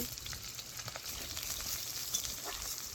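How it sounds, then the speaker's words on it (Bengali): Cut potatoes and radhuni seeds frying in hot mustard oil, a steady close crackling sizzle with faint pops throughout, no talking. "দেখো তেল আমার গরম হয়ে গেছে এখন দিয়ে দেব ফোড়নে রাঁধুনি দিয়ে দেব কেটে রাখা আলু"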